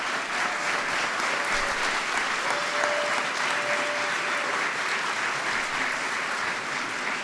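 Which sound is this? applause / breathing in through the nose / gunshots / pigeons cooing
applause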